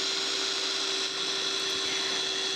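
An electric food chopper whirs loudly and steadily while blending ingredients for kue cucur, a constant close-up motor drone with a high whine.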